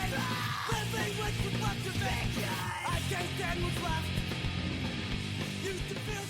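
Screamed rock vocals in a song, harsh and sustained over a dense, loud band mix with driving drums and distorted guitars throughout.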